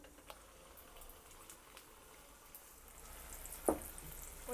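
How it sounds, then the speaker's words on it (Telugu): Poornam boorelu, sweet stuffed dumplings, dropped into hot oil give a soft, steady bubbling sizzle close by, with one brief sharp pop near the end. "పూర్ణం బూరెలు వేడివేడి నూనెలో వేసి వేయించుకుందాము."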